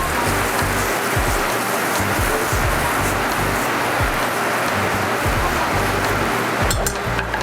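Pesto pasta with salt, pepper and a splash of sherry vinegar tossed in a hot pan in a restaurant kitchen, giving a steady, loud, unbroken sizzle and hiss.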